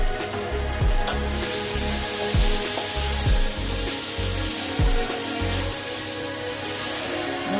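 Spices poured into steamed egg tarka in a pan set off a steady, close sizzling hiss, with a soft rhythmic low thumping beneath it throughout.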